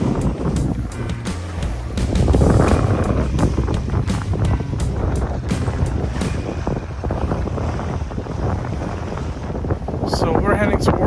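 Wind buffeting a microphone aboard a sailboat heading with a southwest breeze, a loud steady rumbling roar with gusty swells, close and continuous, mixed with faint splashing from the hull.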